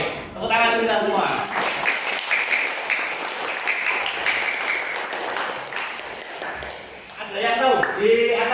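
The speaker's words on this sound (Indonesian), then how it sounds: "Tepuk tangan kita semua." A class of Catholic primary schoolchildren claps together in a classroom, a dense, loud patter of hands that lasts several seconds, with voices heard briefly before and after.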